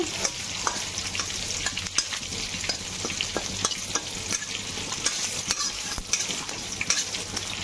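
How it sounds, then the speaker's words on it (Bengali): Cumin, bay leaves and dried red chilies sizzle in hot oil as a tempering for moong-matar dal with bottle gourd. The frying hiss is steady and bright, broken by light clicks of stirring. "এখানে তেলটা হয়ে গেছে, ততক্ষণে এদিকে জিরা, তেজপাতা, শুকনো লঙ্কা ফোড়ন দিয়ে দিয়েছি এর মধ্যে"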